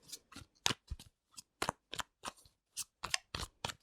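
Tarot cards are shuffled in quick, irregular bursts of crisp riffling and snapping, close up and fairly quiet.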